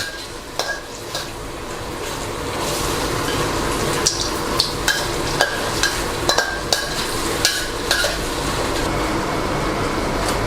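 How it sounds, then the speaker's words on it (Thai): Sweet and sour sauce with bell peppers and cashews being stir-fried in a pan, a steady sizzle underneath with repeated sharp clinks and scrapes of a utensil against the pan. "ผัดให้เข้ากันแล้วก็ชิมรสชาตินะครับ"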